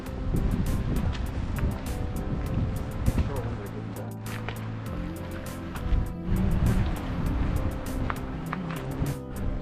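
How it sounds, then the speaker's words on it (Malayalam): Cold wind gusts across the rocky Acadia National Park coast on the North Atlantic, a steady blustery roar buffeting the microphone, with voices talking over it. "നല്ല തണുത്ത കാറ്റ്"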